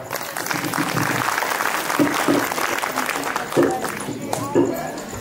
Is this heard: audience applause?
yes